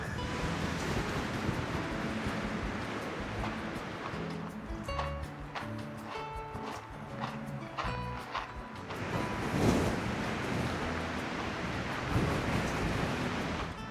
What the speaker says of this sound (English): It's a windy day today in Tenerife. Gusts of wind blowing at more than 40 kilometers per hour.